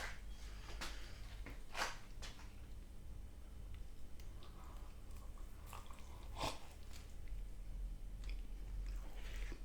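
Close, soft crunching bites and wet chewing of a triple decker meatball pizza topped with bacon bits, a few sharp crunches standing out over quiet, steady mastication with no talking.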